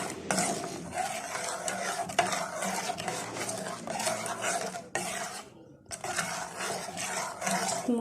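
A spoon stirs semolina in a warmed lemon mixture in a pan, giving scraping and clinking strokes close up, broken by a brief pause.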